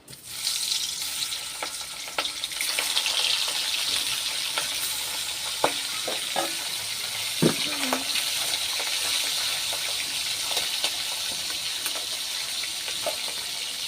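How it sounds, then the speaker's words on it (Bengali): Hilsa fish heads coated in turmeric fry in a pan with a steady, loud oily sizzle throughout, broken by a few faint clinks and taps. "এবার মাছের মাথাগুলো ভালো করে ভেজে নেব।"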